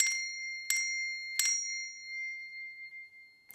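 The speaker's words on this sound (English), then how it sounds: "the sound that I think goes with that is actually the sound of the bell" A small metallic bell rings three times in quick succession, like a bus stop bell, each strike bright and clear with a long ringing tail that fades out, and a fourth strike starts at the end.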